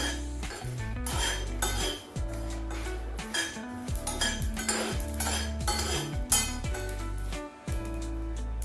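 Dry spices are roasted in a pan for an Andhra-style chicken fry, with a metal spoon repeatedly scraping and clinking against the pan in a steady stirring rhythm, close and clear, with almost no talking.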